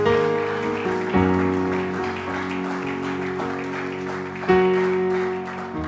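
A church congregation applauds after a sermon, steady clapping over sustained organ or keyboard chords, with swells of louder clapping near the start and again later.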